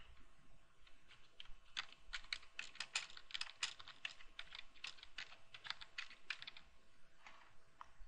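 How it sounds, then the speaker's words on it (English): Someone types a search into a computer keyboard, producing a quiet, close run of quick clicking keystrokes at an uneven pace over about eight seconds, with no talking. "let's just type in Declaration of Independence"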